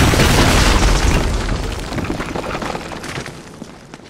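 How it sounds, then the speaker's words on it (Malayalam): A loud explosion from an explosive drum shot in the video game Uncharted, a deep boom that opens at full force and then rumbles and crackles as it decays over several seconds, with no talk over it. "അവിടെ വെടിവെച്ച് പൊട്ടിക്കാനുള്ള ഡ്രമ്മ് കാണാണ്."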